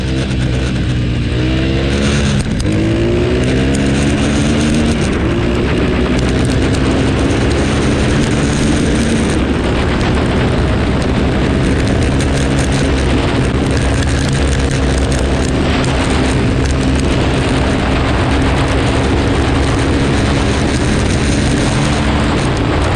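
A homemade go-kart engine revs loudly and steadily close by, droning with rising and falling pitch as the kart is driven, with no talk.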